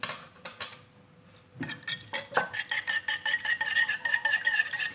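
A spoon stirs cookie dough with melted butter and yogurt in a bowl, sounding as rapid, rhythmic clinks and scrapes against the bowl that follow a few scattered taps and grow steady and quick.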